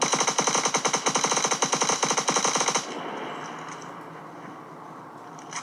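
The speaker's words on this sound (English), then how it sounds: "this is normal rate of fire, and now I'm gonna shoot really fast" Rapid bursts of in-game rifle fire in the Star Citizen video game, fired by spamming the mouse button, loud sharp repeating shots for about three seconds, then a lower lingering rumble with no voices.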